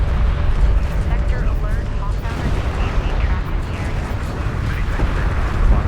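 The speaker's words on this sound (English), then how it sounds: "Anti-air turret post destroyed." A destroyed anti-air turret explodes in Homeworld: Deserts of Kharak, a dense continuous rumbling roar of blast and battle noise that stays loud throughout, with a faint tone briefly underneath.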